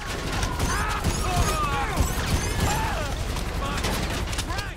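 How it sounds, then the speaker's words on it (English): Rapid-fire shotgun blasts from Grand Theft Auto 5 gameplay crack out in quick succession amid a busy, dense game soundscape, with voices talking over the action. "No, this is a rapid fire shotgun."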